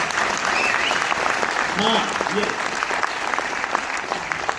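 An indoor audience at a motivational seminar in Delhi claps continuously, a dense steady applause, while a person speaks briefly over it.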